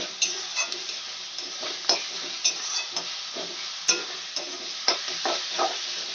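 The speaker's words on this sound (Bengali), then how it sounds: "এই সময় আমি বেটে রাখা আদা, রসুন আর কাঁচা লঙ্কার পেস্টটা দিয়ে দেব। দিয়ে ভালো করে কষাতে থাকবো।" Ginger, garlic and green chilli paste sautés with chicken in a pan, a moderate frying sizzle under repeated spoon scrapes and clicks of stirring at an irregular pace, close by; no one speaks.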